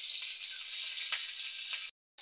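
Two green chillies hit hot oil in a wok already holding a bay leaf and five-spice seasoning, producing a bright, even sizzle with a few soft pops before a brief break in the sound.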